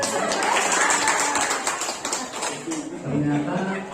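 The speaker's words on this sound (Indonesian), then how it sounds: "Oke, kita kasih tepuk tangan buat semuanya." A group claps for everyone at a scout skills session, a dense, loud patter of hands running throughout with voices mixed in.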